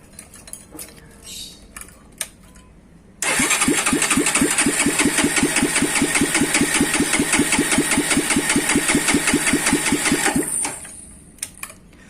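Honda Tiger GL motorcycle engine cranking and catching, then idling with a rapid, even, close-up thumping beat for about seven seconds before shutting off, with faint clicks and handling noises before and after.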